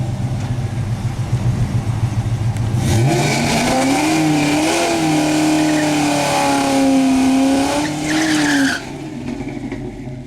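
A drag racing car doing a burnout, engine roaring loudly with a rising, wavering tire squeal for several seconds before cutting off, with steady background noise after.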